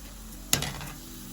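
Murukku deep-fries in oil as the bubbling dies down, a soft, steady low fizz with one sharp clink of a utensil partway through.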